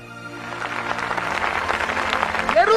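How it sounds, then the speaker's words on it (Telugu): Congregation at a church sermon clapping hands together in a steady, building burst of applause that swells louder over a few seconds, with a voice rising near the end. "చేతుల పైకెత్తి చప్పట్లు కొట్టు."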